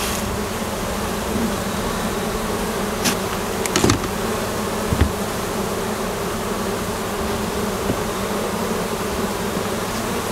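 Dense, continuous buzzing of a wild honeybee swarm close by, a steady droning hum with a few brief louder passes of individual bees.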